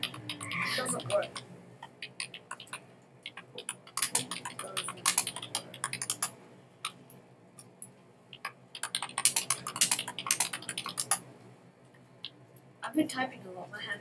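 Fingers type on a computer keyboard in irregular bursts of rapid clicks separated by quieter pauses, with a voice present in the background.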